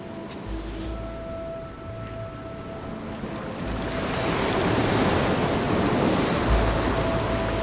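Ocean surf rolls onto a beach used by nesting sea turtles, a continuous roaring wash that swells louder in the second half, with wind rumble and no voices.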